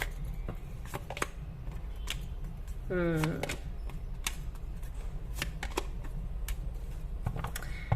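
Tarot cards are drawn and laid down, producing a series of crisp card snaps and clicks spread irregularly across the clip, with a brief voice heard in the middle.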